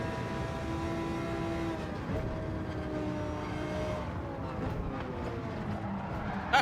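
Racing car engine in Gran Turismo 7, a steady sustained drone with shifting pitch that holds at an even loudness throughout, with no talk over it.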